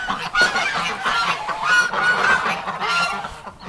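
Ducks honking repeatedly in a noisy flock, a steady stream of nasal calls close by.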